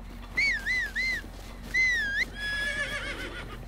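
A horse in the video game Breath of the Wild whinnies in three loud, wavering neighs, with a longer trailing call at the end and no talk over it.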